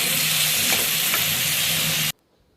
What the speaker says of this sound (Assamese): মই পাচলিখিনি দি দিওঁ, দি ধুনীয়াকৈ ভুনি লওঁ মছলাৰ লগত